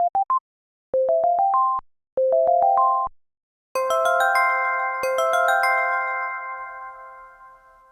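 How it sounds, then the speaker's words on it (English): Pure synthesized sine-wave tones sound in short stepped sequences of rising beeps separated by silences, then a denser layered cluster of bright tones that sustains and slowly fades. "Here, I think we start with sine waves."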